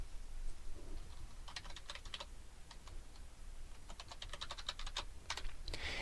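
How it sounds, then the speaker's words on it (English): Computer keyboard typing in short bursts of light, rapid key clicks over a faint steady background hiss, close and quiet. "I'm going to type in my own tagline."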